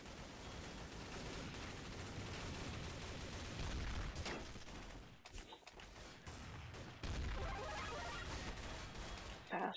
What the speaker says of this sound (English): Fast shotgun.